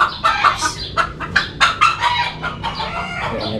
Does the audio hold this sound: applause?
no